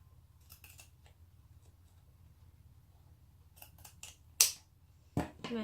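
Scissors snip through the pleated edge of a shabby chic jewellery and storage gift box, a few sharp close cuts near the end after quiet handling and rustling.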